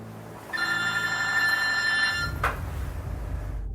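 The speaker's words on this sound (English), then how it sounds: "Phone call in front of him." A telephone rings with one long electronic trill of about two seconds, then a brief click, heard alone over steady room noise.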